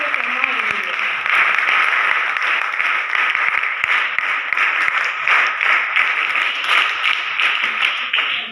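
Sustained enthusiastic applause from an audience at a lamp lighting ceremony during a Vijay Diwas event honouring soldiers, a dense steady clapping wash lasting throughout.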